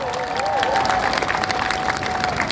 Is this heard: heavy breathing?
no